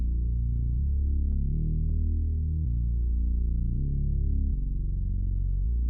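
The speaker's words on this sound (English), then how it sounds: "The last sound is the bass, probably the simplest layer in the entire melody." A simple synth bass layer for a plucky hyperpop beat follows the chord root notes, deep sustained low tones changing pitch every second or so, alone and steady, with highs filtered out.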